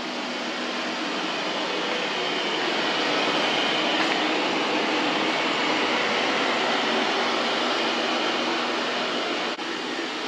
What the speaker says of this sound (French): D'accord, je relance aspirateur.